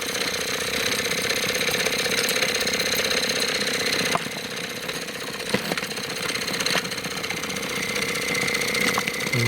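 A Bassett-Lowke live steam traction engine running under steam, a steady close mechanical chugging and hiss with fast rhythmic knocking, continuous and fairly loud, with a few sharp clicks along the way.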